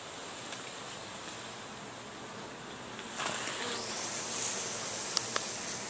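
Honeybees humming inside a hive, a steady droning buzz that swells louder partway through, with a couple of small clicks near the end and no talk.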